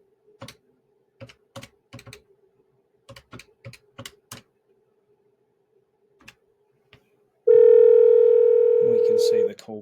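Calling an IP phone extension on a Grandstream UCM6300 IP PBX: a series of keyboard clicks and taps, then a loud steady call tone starts near the end and holds.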